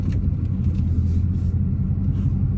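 A 2018 Dodge Charger Daytona 392 on a test drive, its engine giving a steady, loud low rumble with road noise from inside the cabin and no talking.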